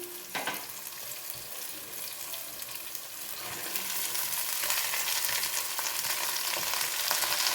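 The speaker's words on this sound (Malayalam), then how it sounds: "ഇനി നമുക്ക് വെളുത്തുള്ളി ഇടാം." Garlic fried in hot oil for a garlic pickle, a close, continuous sizzle that grows louder and denser partway through, with faint stirring and clinks mixed in.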